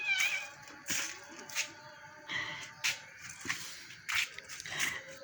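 A cat meows repeatedly, several short, close cries spaced irregularly, with faint shuffling in between.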